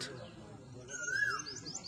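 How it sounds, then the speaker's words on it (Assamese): An Asian koel gives one clear, rising-and-falling whistled call from a distance, quiet against soft background murmur. "আৰু এইপিনে কুলি মাত"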